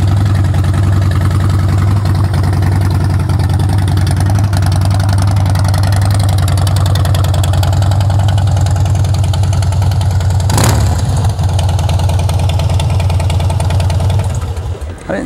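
A Harley-Davidson Heritage Softail Classic motorcycle idles with a steady, deep, loud engine rumble that holds throughout, with one brief sharp transient near the end before it trails off slightly.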